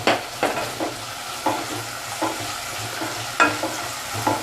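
Chopped onion and green chillies fry in a pan with a steady sizzle, broken by repeated scraping stirs of a spatula at irregular intervals, close and clear with no talk.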